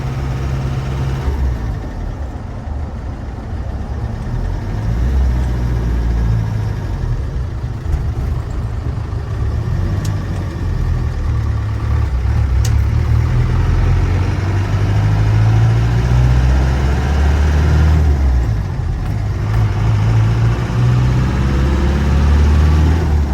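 A 1996 Land Rover Defender 90 engine runs steadily while driving, a continuous low rumble that stays loud and close throughout with no talking.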